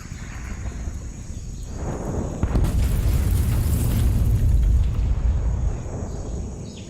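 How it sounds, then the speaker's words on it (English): A distant cannon blast sound effect plays during a Dungeons and Dragons tabletop session, rising into a long, loud low rumbling boom that holds for a few seconds before easing off, with no talking over it. "And it looks like a pretty large explosion."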